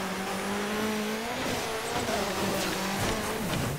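A car engine in the rally game DiRT 3, droning and shifting pitch as it revs and eases, with tire and gravel noise underneath, steady and close with no talking.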